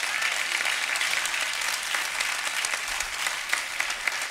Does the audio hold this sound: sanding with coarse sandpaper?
no